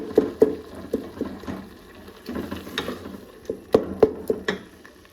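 A spoon scraping and knocking against a bowl, irregular taps and clinks up close as a thick paste is stirred, with no talking.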